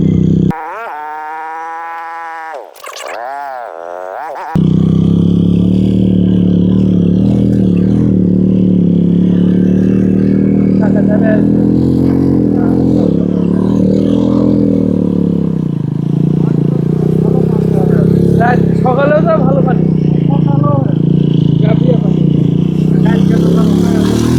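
A motorcycle rides toward a large litchi orchard beside the Indian border in Rajshahi, its engine droning steadily up close with wind rush, after a brief rising, whining tone at the very start.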